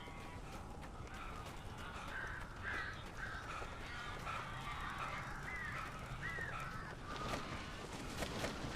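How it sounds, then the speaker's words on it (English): Crows caw in Alan Wake Remastered, a scattering of harsh, rasping calls over a dense, noisy ambient wash, moderately distant and irregular, with no talking. "These birds are weird."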